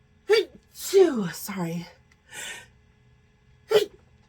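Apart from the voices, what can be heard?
sneezing fit from allergies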